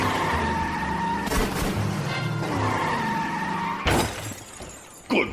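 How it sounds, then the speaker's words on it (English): Car brakes screeching and tires skidding as a radio drama sound effect, a long rough squeal with swelling bursts and a sharp crash-like hit near the end. "tried to put on the brakes"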